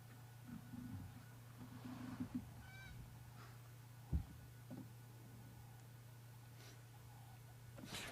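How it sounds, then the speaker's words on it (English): A bird gives a few faint honking calls in the distance on an African safari reserve at sunset, against a low steady hum, with scattered soft clicks and a single thud. "I can hear an interesting bird making a noise"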